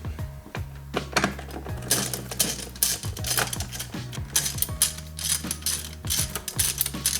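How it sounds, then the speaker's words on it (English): An 8mm socket ratchet removes hose clamps on the intake of a Subaru WRX STI, giving rapid, continuous mechanical clicking and ratcheting with metallic clinks, close and fairly loud throughout, with no talk. "you're going to use your 8mm socket or your flathead to take out these 2 clamps"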